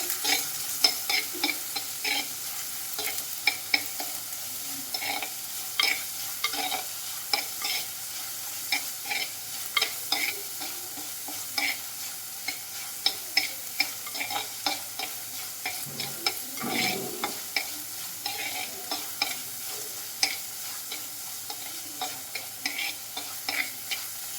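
Small onions and crushed garlic sauté in a pan for a Kerala-style fish curry, giving a continuous sizzle with frequent light stirring clicks and scrapes over the whole stretch.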